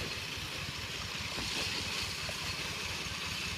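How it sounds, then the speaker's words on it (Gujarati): Pressure pump running steadily while pesticide is sprayed on coconut trees, a continuous droning engine hum with a hissing spray layer, unbroken and fairly loud throughout. "દવા મારીએ છીએ ભાઈ, પ્રેશર પંપ ચાલે છે."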